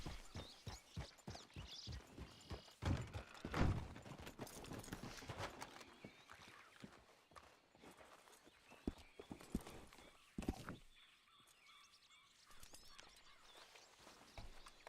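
Horse hooves clip-clop in a video game, a series of close, irregular hoof strikes with occasional louder thuds that fade toward the end, followed by a brief quiet stretch.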